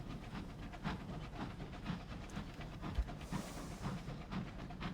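A steam locomotive from the video game Sunless Skies chugs along with rhythmic piston beats, hissing steam and clattering, steady and moderately quiet throughout.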